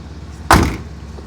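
The door of a 1973 Chevrolet Monte Carlo shuts with one solid, close thud, with no talk over it.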